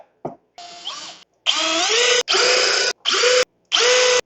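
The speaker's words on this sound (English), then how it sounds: "And we're just gonna reinforce with some screws." Cordless power drill driving screws into a wooden spline jig: a tiny start, then five bursts of whining motor, each running about half a second to a second, rising in pitch as the screws seat, loud and close, with no talking.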